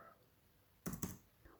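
A couple of quick, close clicks of fingers typing on a computer keyboard into a Chrome browser's address bar, a brief pair of keystrokes followed by a fainter tap in a quiet room.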